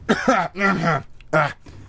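Someone close by gives three rough, throaty coughs in quick succession, harsh and voiced, with short gaps between them.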